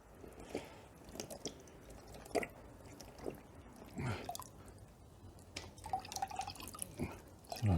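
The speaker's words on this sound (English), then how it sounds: "How much coolant's going to come out of this? Will it fill this bucket?" Engine coolant drips from a motorcycle engine into a bucket, with sparse, irregular close-up drips and small splashes spaced apart over a quiet background.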